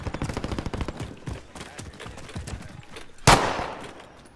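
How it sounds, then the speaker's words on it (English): Rapid video game gunfire crackling in short bursts, then one loud sharp blast near the end, with a voice talking over the shots. "Taking fire!"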